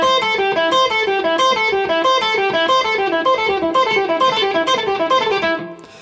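An electric guitar plays a picking exercise, a steady run of clean, evenly spaced single notes that moves through a repeating note pattern for about five seconds and then rings out and fades.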